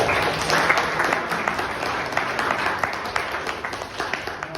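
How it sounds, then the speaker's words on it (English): An audience claps steadily in a sustained round of applause, dense and even, with no voices standing out. "let's give a round of applause to Julian."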